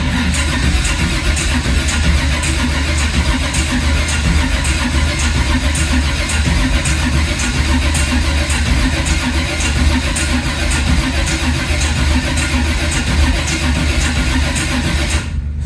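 A 1980 Camaro engine cranking continuously without catching, with a loud, steady rhythmic whirr of the starter that keeps going for several seconds before cutting off at the end.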